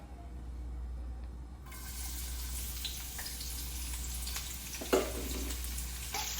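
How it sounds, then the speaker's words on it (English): Soft, steady sizzling of onion frying in butter in a pan, with a faint low hum beneath and a light clatter near the end. "Now I'm going to fry my onion."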